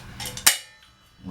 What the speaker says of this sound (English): So I'm going to the vice grip on the nipple.